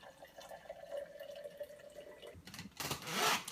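Mountain Dew 10 flavor mix soda poured into a mug, a soft liquid trickle followed by a rising fizzy hiss as bubbles build up, close and moderately loud.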